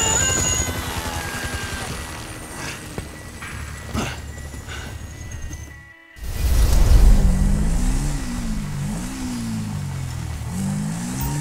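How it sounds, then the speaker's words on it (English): A helicopter approaches in Grand Theft Auto V, with a loud throbbing rotor pulse that swells after a short silent break and follows earlier engine and game noise. "Can you hear that? Chopper! Incoming!"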